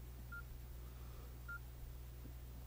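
Two short, faint beeps from touch-sensitive button taps on a Nokia 6650 phone, spaced over a second apart, above a steady low hum.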